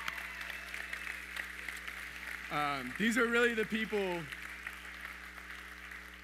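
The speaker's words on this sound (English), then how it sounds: "let's give them a round of applause" A scattered round of clapping from a Sunday church audience rises and settles in the background, while a voice speaks briefly over it partway through.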